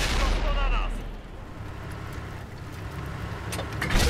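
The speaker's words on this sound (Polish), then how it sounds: "No i zobaczcie, kolejny strzał." A heavy T110E5 tank cannon blast in World of Tanks booms at the start, then a low rumble and a steady mechanical drone continue, with faint crackles near the end.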